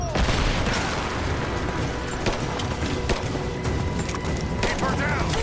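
Dense gunfire fills a firefight in the video game Rise of the Tomb Raider, with shots and booms crowding together continuously at loud volume while voices shout over the combat.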